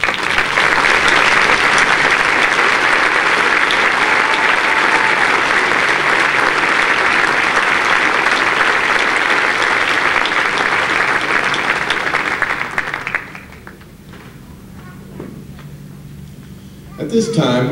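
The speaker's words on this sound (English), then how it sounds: "I'm asking all of you to join me in applauding them for the fine education they have provided you" Sustained, loud applause from a commencement audience honoring standing faculty at Upper Iowa University, a steady dense roar of clapping that cuts off sharply near the end, leaving a quieter room before another sound begins.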